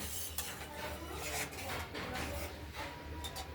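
Chili and cumin spices stirred and sautéed in a cooking pot, with soft repeated scraping strokes of a utensil against the metal over a light background sizzle.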